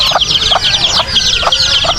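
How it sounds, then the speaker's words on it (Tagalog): Several large, well-fed farm chickens cluck up close in a rhythmic series of sharp, loud calls, one roughly every half second, with no talking over them. "tingnan mo naman ang manok din namin dito, matatangkad, malalaki"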